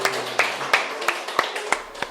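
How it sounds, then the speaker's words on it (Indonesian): Classroom group clapping in a teacher's lesson, a few people giving sparse, evenly spaced claps roughly every third of a second, close by and fairly quiet. "Oke, boleh tepuk tangan"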